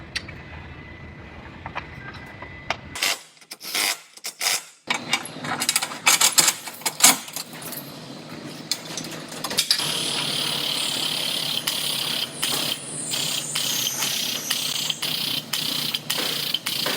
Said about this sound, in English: So I'm gonna actually bolt this old reinforcement bar back on here